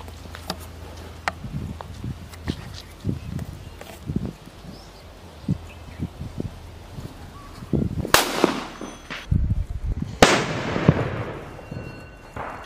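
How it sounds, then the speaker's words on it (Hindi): A small sutli bomb firecracker goes off inside a cement hole during Diwali fireworks testing: faint scuffs and crackles lead up to two loud, sharp bursts that ring out briefly nearby. "भाई सबसे पहला छोटा वाला सूतली बम केक बॉम टेस्ट करते हैं इस होल के अंदर"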